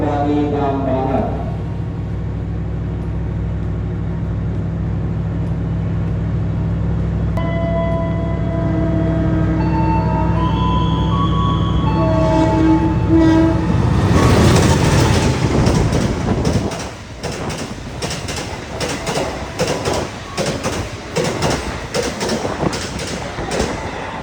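The Sembrani passenger train rumbles and horns blare before it rushes through a station without stopping, with loud rhythmic clatter of wheels over rail joints, close by and fading slightly at the end.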